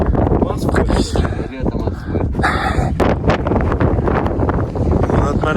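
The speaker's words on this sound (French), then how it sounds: "Pour notre malheur, je me dis qu'on a le vent par derrière et pas de face." Strong wind buffeting the summit of the Acatenango volcano in Guatemala, loud roaring gusts slamming the microphone in irregular bursts throughout, with a person speaking underneath.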